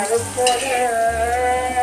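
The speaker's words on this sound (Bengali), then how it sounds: "আলুটা একটু ভাজা ভাজা করতে করতে পেঁয়াজটা কিন্তু ওই আলুর ভাজার সাথেই ভাজা হয়ে যাবে" Steady sizzle of potatoes frying in a pan, with a low hum underneath and occasional faint scrapes, close and continuous, no voices.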